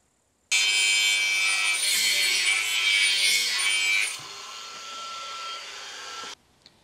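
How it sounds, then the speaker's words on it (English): Profiles being cut to length in a welding workshop give a loud, continuous rasping cut that starts abruptly, eases to a lower, quieter grind partway through, then stops sharply. "I will cut them here and here off"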